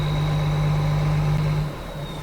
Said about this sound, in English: We'll leave the two big tractors running.